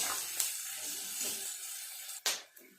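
Vegetables stir-fried in a pan for chow mein: a soft, steady sizzle with a few brief louder hissing bursts, fairly faint and without talk.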